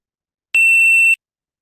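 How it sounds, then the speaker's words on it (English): A single clean electronic beep from a driver drowsiness alert, sustained for about half a second, loud and alone in silence. "So that was a beep sound to alert the driver."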